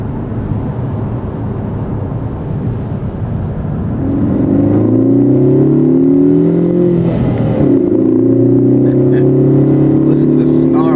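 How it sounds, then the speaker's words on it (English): A Ford Focus ST accelerates hard, its turbocharged engine and exhaust rising into a loud, snarling rev that climbs and holds, with someone talking over the engine noise. "Listen to the snarl of that exhaust."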